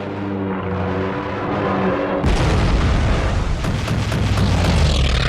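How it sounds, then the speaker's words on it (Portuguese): Anti-aircraft guns on Japanese aircraft carriers fire in World War II archival footage. A tonal drone suddenly gives way to a dense, roaring barrage of booms and bursts that continues loudly to the end. "Os canhões antiaéreos nos porta-aviões japoneses abatem os aviões americanos um após o outro."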